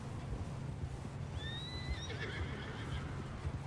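A horse whinnies in the video game Red Dead Redemption 2, a high quavering neigh lasting about two seconds over steady low rumbling and hoofbeats, moderately near and with no talk.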